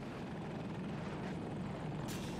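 Helicopter rotor and engine drone from a military shooter game, a steady broadband whir holding throughout at moderate level, with a brief hiss near the end.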